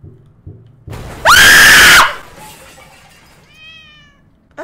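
A cat in a horror video game lets out one loud, shrill, screeching yowl that lasts about a second, followed by quieter game noises and a few faint, wavering tones.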